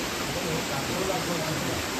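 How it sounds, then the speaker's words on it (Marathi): Water from an old forest spring in the Konkan countryside flows in a steady, even broadband wash that stays constant and fairly close throughout. "हा जुना झरा होता"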